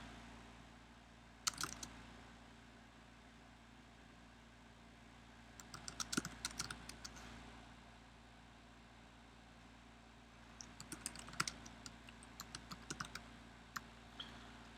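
Typing on a computer keyboard late at night, sparse bursts of quick light key clicks separated by long quiet stretches, close and faint over a low steady hum.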